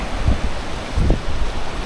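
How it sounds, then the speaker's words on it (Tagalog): Sea waves wash ashore at Ba Tonying Beach in Northern Samar, Philippines, a loud continuous rushing roar buffeted by wind noise on the microphone, with two low surges and no voices. "Alon dagat"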